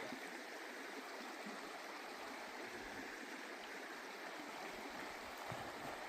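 Little Boulder Creek rushes past a log trail crossing, a steady close hiss of flowing water with no break from start to finish.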